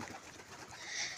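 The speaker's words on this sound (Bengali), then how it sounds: "সব পায়রা আছে এখানে।" Pigeons in a small loft at a house at dusk, giving soft cooing and rustling that stays steady and fairly faint throughout, with no talking.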